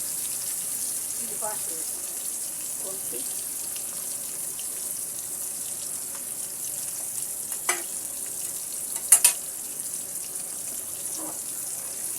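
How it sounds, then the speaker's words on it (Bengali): Fish pieces fry in hot oil, a steady faint sizzling hiss running throughout with a few brief sharp pops and spatters near the end, and no talking. "মাছগুলোকে আমি সুন্দর করে ভেজে নেবো"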